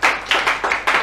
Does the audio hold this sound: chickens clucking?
no